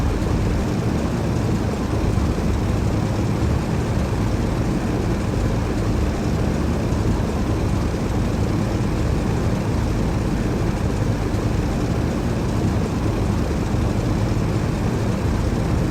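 Steady propeller aircraft engine drone in Digital Combat Simulator, a continuous broad roar holding level from start to finish with no voices over it.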